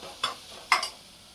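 A spoon stirs coriander powder into tomatoes in a pan, giving two brief scraping clinks against the metal, close but soft over a faint background.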